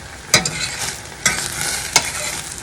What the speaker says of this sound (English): We want to get rid of all the alcohol, so we're boiling this puppy.